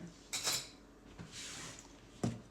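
A metal fork is picked up, giving a few short, close clinks of cutlery against a dish, spaced apart over a quiet kitchen background.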